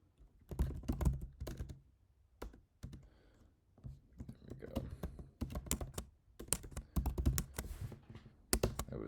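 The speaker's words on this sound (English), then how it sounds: "my typing is all over the map right now" Rapid, uneven typing on a computer keyboard, clusters of sharp close key clicks with brief pauses, fairly quiet.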